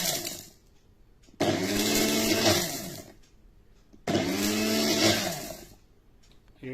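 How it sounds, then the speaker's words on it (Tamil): A Cookwell bullet mixer grinder grinds black peppercorns in two loud, sustained bursts of roughly two seconds each, separated by a quiet pause, with no talking. "இப்போ இதை அரைக்கிறோம்."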